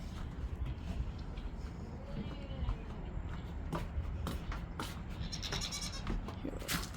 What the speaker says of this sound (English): I've let the goats into the backyard, and they're